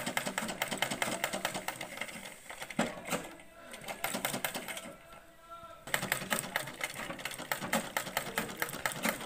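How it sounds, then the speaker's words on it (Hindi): A sewing machine stitches around the edges of a jumper, with fast rhythmic needle clatter that runs in bursts, halts briefly in the middle and then resumes, close and fairly quiet, with no talking. "चार तरफ कट करने के बाद हम इसके ऊपर एक सिलाई चलाएंगे, इसको चारों तरफ हम सिलाई चला लेंगे।"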